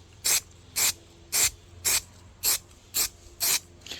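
Short bursts of an aerosol spray can laying a very fine dust coat of paint during a 2001 Chevrolet Silverado 2500 HD repair, seven even hisses about half a second apart, close and loud with no talk.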